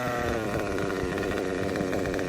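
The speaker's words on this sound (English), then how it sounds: "We're gonna let the engine settle down for a second." A small nitro RC engine runs at a steady, close buzzing idle as it settles after a full-throttle pass, with a continuous rough drone and no speech.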